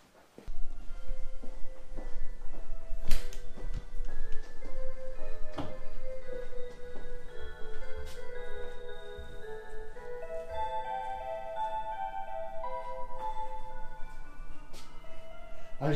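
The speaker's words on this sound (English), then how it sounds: "I was just showing that we got Meme's clock up." A wall clock newly hung in a home ticks steadily and evenly throughout, a close, regular tick-tock with a faint background hum and no talking.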